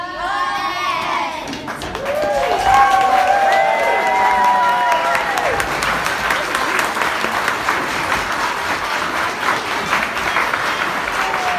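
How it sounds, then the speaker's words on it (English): Audience applause after a children's fairy tale play, starting over fading voices and swelling into steady, sustained clapping from a full room, with some cheering mixed in. "Give them another round of applause."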